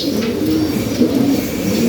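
Close, continuous pigeon cooing in a loft, low soft throaty coos repeating in an even rhythm with no other sounds.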